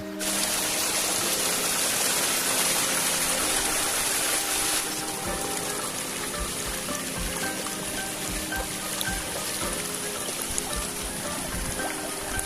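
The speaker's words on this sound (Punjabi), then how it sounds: "ਜਿਹੜਾ ਬਰਫ਼ ਦਾ ਪਾਣੀ ਹੈ ਨਾ, ਪਹਾੜਾਂ ਤੋਂ ਸਿਮ ਕੇ ਆਉਂਦਾ ਜਾਂ ਬਰਫ਼ ਖੁਰ ਕੇ" Snowmelt water flowing down from the mountains near Deepak Tal in Lahaul pours in a loud, continuous rushing wash that stays steady throughout.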